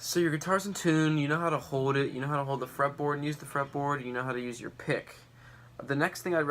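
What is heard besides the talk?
No everyday noise stands out behind the speech.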